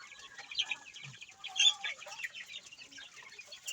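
Growing chicks in a coop pecking at feed, with steady close chirping and clucking from several birds, small scattered tapping, and a short burst of flapping midway.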